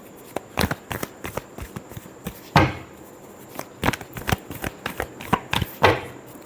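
Tarot cards are shuffled by hand in a string of quick, crisp riffles and slaps, close and fairly loud, with short pauses between bursts.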